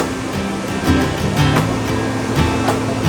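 Ocean waves surge and break steadily on the shore at Guimaras, a continuous rushing wash with a few louder crests, heard close and without talk.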